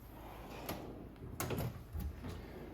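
A drawer on a shop toolbox in a small garage workshop slides open or shut, a few soft scraping clunks at close range with no voices.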